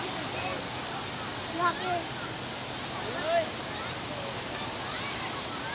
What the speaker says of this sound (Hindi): आप देख सकते हैं नहर दरिया कैसे चलता हुआ जा रहा है